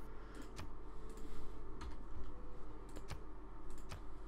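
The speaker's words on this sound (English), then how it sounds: "So I have to type." Quiet typing on a computer keyboard, a few scattered key clicks over a steady background hum, close and with no voices.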